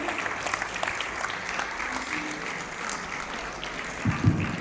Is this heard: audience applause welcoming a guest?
yes